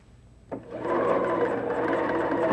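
A domestic sewing machine stitches fabric in a steady, continuous whir that starts abruptly and holds fairly loud and close through the rest of the clip, with no talking.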